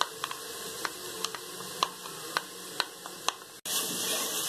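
A mixture lightly browning in a pan for chicken cream roll paratha, sizzling steadily with a constant hiss broken by sharp ticks and pops from stirring, then a sudden louder burst of frying near the end.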